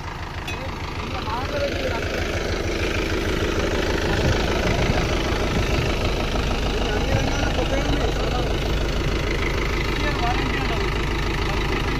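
Sonalika tractor engine idling after a tyre blast, a steady loud diesel rumble running throughout with people talking over it.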